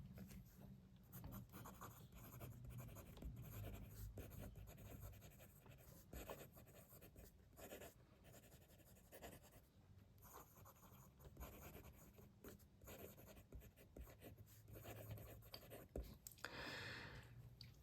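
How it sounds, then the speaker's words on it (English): Benu fountain pen from the Cocktail Hour Mojito line, its nib writing on paper with a smooth glide and slight feedback, giving soft continuous scratchy strokes close up with brief pauses between them. "as you would expect from Benu, the nib writes beautifully. It's smooth. There's just a slight feedback on it."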